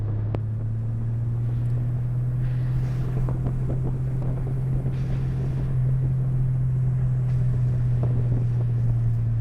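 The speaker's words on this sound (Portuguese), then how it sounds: "Vai ver que agora ele vai puxar bem mais as marchas" A Golf GTI MK4 with a DSG gearbox and FuelTech electronics accelerates through its gears in manual mode, heard from inside as a steady, loud engine drone under rushing wind noise, with no one speaking.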